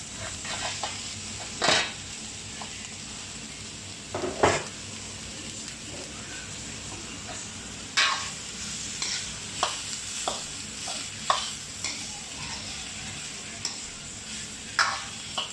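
Onions and hotdog frying in a pan, a steady close sizzle broken by several scraping, clinking stirs of a utensil against the pan.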